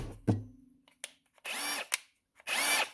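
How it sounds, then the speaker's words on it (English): A Ryobi One+ HP brushless cordless drill runs in two short, close bursts of whirring motor, each spinning up and cutting off, separated by clicks and handling knocks, with no talking. "Let's see if the drill's got any juice in it."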